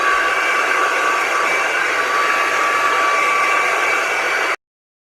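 A hair dryer blows steadily on thick natural hair, a loud, even, close-up whooshing roar that holds for about four and a half seconds and then cuts off abruptly.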